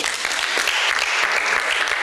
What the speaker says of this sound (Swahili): Jamani mpigieni makofi